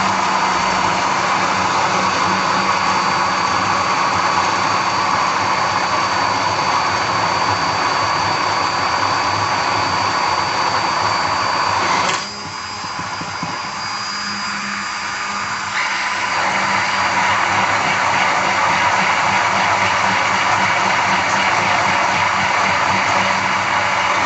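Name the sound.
blender blending homemade mayonnaise with oil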